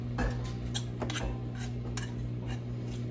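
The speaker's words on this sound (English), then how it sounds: "I can get a knife and cut off the excess" A knife trims excess crust from a homemade pecan pie, giving several light clicks and scrapes against the dish over a steady low kitchen hum, close and fairly quiet with no talk.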